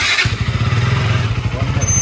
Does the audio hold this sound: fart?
no